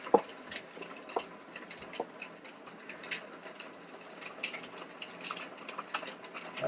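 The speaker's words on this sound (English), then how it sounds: "I'm sorry if you're hearing all that rain." Heavy rain pours down outside, a steady dense hiss with scattered drips and ticks running through the whole stretch at moderate loudness, with no voices.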